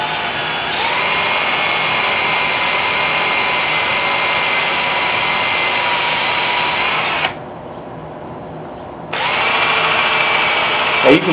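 Power drill whirring at high speed while carving a wooden caricature fisherman, a loud steady whine that drops briefly to a lower pitch, then resumes at full speed before stopping.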